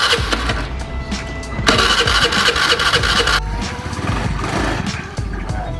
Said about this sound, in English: Thankfully, we did get our bike to start